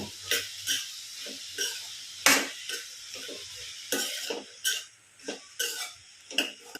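Green beans being stirred with salt in a pan, a spatula scraping and clinking against the metal in repeated irregular strokes, close and fairly loud, with a faint sizzle underneath and no talking.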